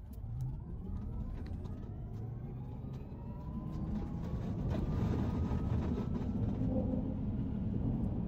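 A Tesla Cybertruck electric pickup in sports mode accelerates hard, a steady, rising road and motor roar that swells louder toward the end with no one speaking.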